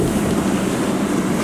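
Strong wind of 20-25 knots and two-metre waves on the Gulf of Biscay, heard aboard a sailboat: a loud, constant roar of wind buffeting the microphone over a heavy rushing wash of sea.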